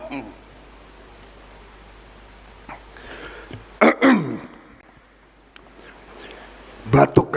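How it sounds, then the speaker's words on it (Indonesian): A speaker at a political speech coughing and clearing his throat, a few harsh bursts close to the microphone with quiet pauses between them. "Batuk karena semangat."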